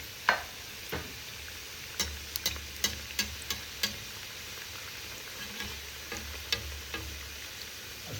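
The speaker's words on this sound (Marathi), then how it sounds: "आता हे आपण टाकतो आहोत तळायला." Soybean-filled karanji pastries frying in oil, a soft, faint bubbling hiss punctuated by a string of sharp taps and clinks from a utensil against the pan, no talking.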